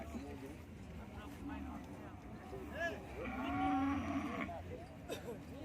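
A bull lows at an open-air cattle and buffalo market in Thailand, a long deep moo rising over steady crowd murmur and background noise, with people talking nearby.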